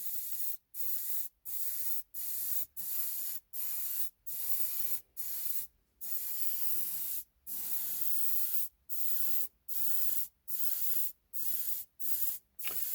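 A Selphy airbrush sprays paint in a fine, steady hiss, cut into a long series of short bursts separated by brief pauses. It is close but quiet, with no talking.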